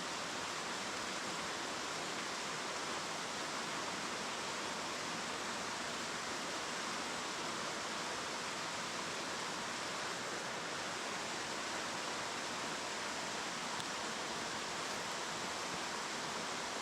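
A creek flows steadily outdoors, making a constant, even wash of rushing water with no breaks and no voices.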